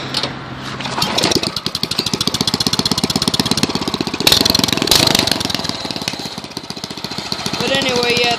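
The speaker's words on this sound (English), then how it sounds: "I'll start the engine up." A go-kart engine fitted with brake lights cranks and catches, then settles into a loud, rapid, steady idle with choppy pulsing, running close by for several seconds.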